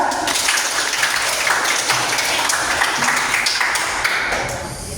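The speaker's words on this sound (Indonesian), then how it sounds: "berikan aplaus untuk Nasra" A classroom of students claps for a classmate named Nasra, producing a dense, even burst of applause that lasts several seconds before tapering slightly at the end.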